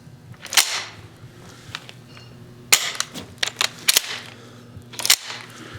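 Straight-pull Ross rifle bolt being worked back and forth at an auction lot preview, giving several sharp metallic clacks and slides spread across the span, close and fairly loud over a low background hum.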